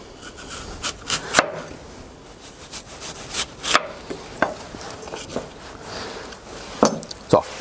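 A knife slices an apple into rounds on a board while making a dessert, giving a series of crisp, irregular chopping taps close by, with no talk.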